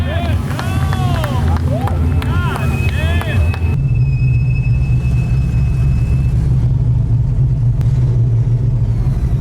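An LS-swapped Miata race car at an LS Fest event screams near its rev limiter as it passes close by, the engine pitch swooping, then it fades into a steady roar of crowd and wind.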